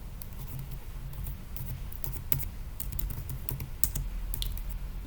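Typing a folder name on a computer keyboard, fairly quiet key taps coming in quick bursts and short pauses, with no one speaking.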